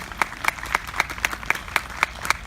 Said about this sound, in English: Round of applause for the province of Ontario.